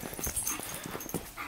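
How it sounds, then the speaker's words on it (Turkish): A dog barks somewhere in the distance, faint and brief, amid rustling movement and background noise. "Köpek sesi geldi."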